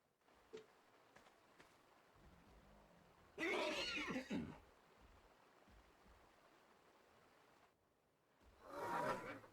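A horse in the video game Ark: Survival Evolved neighs in two loud, breathy whinnies, one mid-clip and one near the end, over a soft outdoor bed with faint footsteps.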